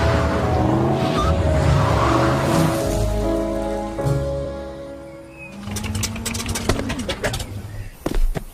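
Cars rumble and swish past in a video game, a continuous traffic drone with a bird cooing over it and sharp clicks and ticks toward the end, no talk.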